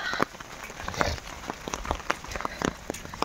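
Heavy winter rain pours down in Odisha, a dense steady hiss broken by sharp patters of drops striking a surface nearby, with no talking.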